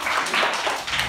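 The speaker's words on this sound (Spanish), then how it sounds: "Aplauso para nuestra amiga Nora." A primary school class claps for a classmate during a tangram team game, with rhythmic, slightly distant clapping filling the short moment.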